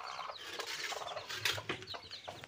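A black hen with her ten newly hatched chicks clucks in short soft bursts, close by and fairly quiet, with faint chirps mixed in and no talking.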